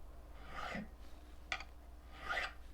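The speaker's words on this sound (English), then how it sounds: "I'm filing and going down at the same time to round the edges of these frets" A file rounding the edges of frets on a Les Paul-style electric guitar, a few faint, soft rasping strokes at close range separated by quiet pauses.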